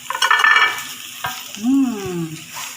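Tofu pieces stirred in a frying pan for a beef tripe dish with green chili, with a brief scrape and sizzle early on, then a utensil clink and a short rising-falling squeak as it is moved, close and fairly quiet.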